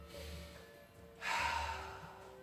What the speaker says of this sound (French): Respiration profonde.